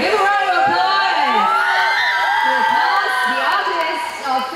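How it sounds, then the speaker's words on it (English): Large crowd of fans cheers, whoops and yells loudly for Mediacorp actresses at a public event, high excited voices sustained throughout with some speech mixed in. "Give a round of applause!"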